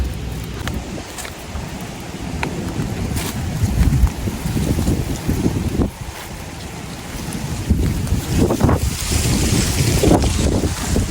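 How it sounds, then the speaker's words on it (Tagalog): Strong wind buffets the microphone outdoors, a loud rumbling roar with gusty surges and brief lulls that persists throughout. "Grabe kalakas ng hangin."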